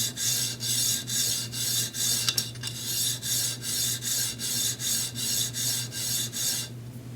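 A Wahl 5-in-1 adjustable clipper blade is hand-sharpened on a stone, giving steady rhythmic rasping strokes, about thirteen even back-and-forth passes, close and fairly loud over a low constant hum.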